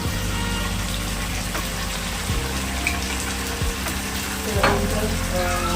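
Fried rice sizzles loudly and steadily in a hot pan as red chili sauce goes in, with a few scraping stirs cutting through the constant crackle.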